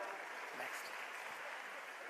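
An audience applauds at a Delhi government school ceremony, a dense, even wash of clapping holding steady throughout, with a voice faintly underneath.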